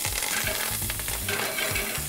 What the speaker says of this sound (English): and these will sizzle